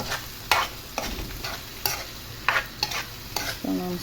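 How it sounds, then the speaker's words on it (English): Prawns with garlic paste being stirred and fried for a prawn curry: close, loud sizzling punctuated by quick, irregular scraping strokes of a utensil against the pan, with no speech. "So now I'm stirring it up"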